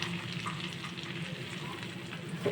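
Cumin, mustard seeds and asafoetida sizzle in melted ghee and butter, a steady close crackle and hiss that holds evenly throughout.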